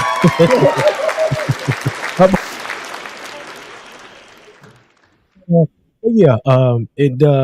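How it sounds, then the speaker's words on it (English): A burst of applause and whoops fades out over several seconds, then a voice speaks up close after a brief silence. "I want to give him a round of applause"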